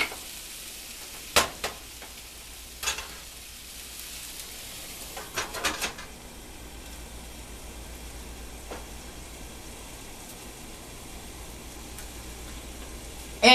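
Chicken frying in a pan gives a steady, quiet sizzle throughout, with a few sharp clinks and taps from utensils near the start, and no voices over it.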